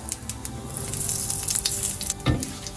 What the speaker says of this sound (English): I'll add in the dry red chilli, bay leaf, cumin seeds, and a little bit of hing or Asofoetida